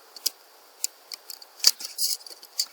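A pen writes an equation, giving a scattering of short, faint, scratchy strokes with uneven pauses between them and no talking.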